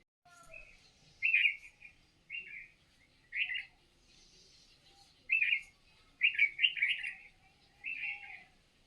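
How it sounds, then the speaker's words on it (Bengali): Several birds chirp in the morning outdoors: short, bright bursts of tweeting come and go in uneven clusters against an otherwise quiet background. "সকালবেলা পাখির কলরব"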